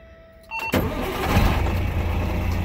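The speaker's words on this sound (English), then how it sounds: "Get in here and fire the old dump truck up." An old dump truck engine cranks briefly and catches, then settles into a loud, steady diesel idle close by.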